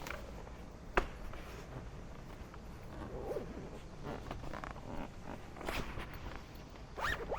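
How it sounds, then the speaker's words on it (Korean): A zipper is pulled along a bike carrier bag in a few short, raspy runs, close by and fairly quiet, with light handling noises between them. "지퍼만 옆에 체결만 해주시면 돼요"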